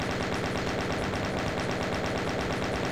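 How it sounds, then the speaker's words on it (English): Chaingunner enemies firing in Doom TNT: Evilution: a loud, unbroken stream of rapid, evenly spaced gunshots that rattles on without pause throughout. "Are those chain gunners? They are."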